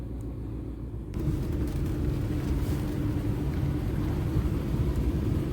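A car drives slowly along an overgrown forest road, its engine a steady low rumble that swells after the first second and continues with faint scraping and rustle underneath.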